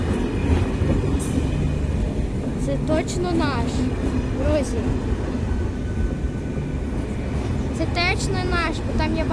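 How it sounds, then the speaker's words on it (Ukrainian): An old train rumbles and clatters close by as it pulls into a station, with squealing brakes and a voice talking over the noise. "вже якийсь поїзд під'їжджає, можливо, це наш"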